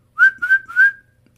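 Three quick whistled notes in a row, clear and close, like a person calling, followed by silence.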